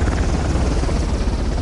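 A helicopter hovers overhead in the video game Uncharted, its rotor throbbing in a steady, loud, continuous thrum with no voices over it.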